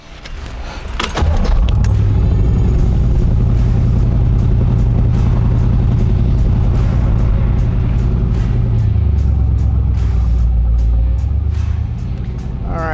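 A restored 1966 car pulls away and drives, its engine rumbling loud and close with a steady low drone that shifts pitch partway through, accompanied by rattles and clicks from the cabin.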